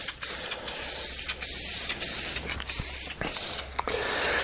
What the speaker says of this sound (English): I'm just spraying across them.